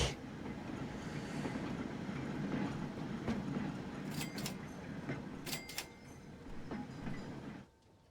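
Trains running through a station in a video game produce a continuous rolling rumble with faint clickety-clack and a few brief high squeals or hisses toward the end, steady and moderately loud with no talk.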